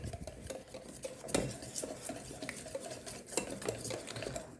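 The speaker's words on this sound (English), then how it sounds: "I'm going to mix that in." A spoon stirs milk, added a splash at a time, into pancake batter in a bowl, with continuous close scraping and clinking against the sides and a few sharper knocks, no voices.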